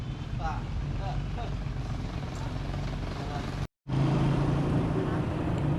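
Motorcycle engine idling and revving during a mechanic's test run at a repair shop in the Philippines, the bike stalling after a crash and needing fuel-system cleaning; a steady low drone cuts out briefly, then returns louder.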